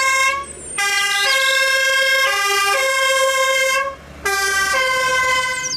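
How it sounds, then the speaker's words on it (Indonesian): A toy fire truck's electronic siren wails loudly and continuously in a stepped, two-tone warble, cutting out briefly before resuming. "Widih, ada mobil pemadam."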